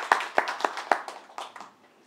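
A small audience claps to welcome presenters onto the stage, starting with a few sharp, distinct hand claps that thin out and fade over about two seconds, with no one talking.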